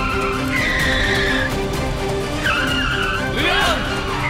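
Car tires squeal and skid in several sharp, rising bursts as the car brakes to a stop, loud and close, with a noisy background.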